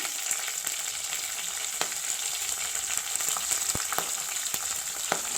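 Cumin seeds, mustard seeds and green chillies sizzle steadily in hot oil, a dense continuous crackle with scattered sharp pops, close and alone with no talking.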